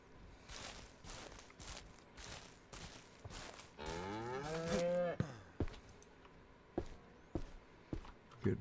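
A cow moos once, long and loud with a rising-and-falling tone, on a video game ranch, amid repeated footsteps and soft taps before and after.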